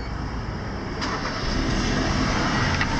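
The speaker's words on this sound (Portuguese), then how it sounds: "Vou ligar o carro para vocês." Kia Cerato SX3 1.6 16v automatic from 2013 with its engine running, a loud, steady close-up hum and rumble that rises slightly partway through.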